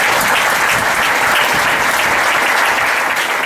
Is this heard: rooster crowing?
no